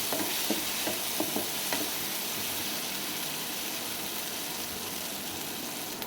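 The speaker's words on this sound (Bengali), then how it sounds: "এর ভালো করে আমি নেড়ে চেড়ে নেবো।" Ground spices (coriander, chilli and turmeric powder) are stirred in a hot frying pan, with a steady bright sizzle and a few scraping stirs early on, then continuous frying hiss.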